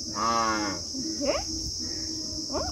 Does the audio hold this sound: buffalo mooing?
yes